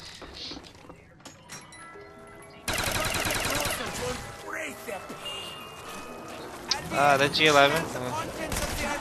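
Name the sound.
G11 gun firing in Call of Duty Black Ops zombies video game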